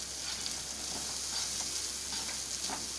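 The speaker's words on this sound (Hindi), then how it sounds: "इसको थोड़ा फ्राई कर लीजिए" Masala sizzles steadily in oil in a kadai while kadai paneer is cooked, a close, continuous frying crackle with small pops and stirring scrapes throughout.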